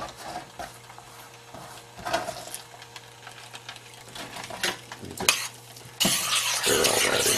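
Chilies and onions get stirred into salsa in a pan, with scraping, clinking utensil strokes over a soft sizzle and a louder burst of frying near the end; no voices.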